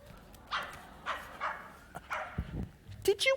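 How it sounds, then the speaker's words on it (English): A small dog gives several short barks and yips, spaced unevenly, close and clear, with a person speaking around them. "Is that Miss Lark's dog, Willoughby?"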